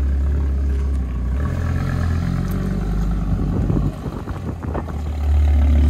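Audi RS3 8P five-cylinder engine with a new exhaust after a stage 1 tune, a deep close rumble with a couple of rev rises and a loud throaty surge at the end.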